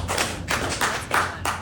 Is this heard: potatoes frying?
no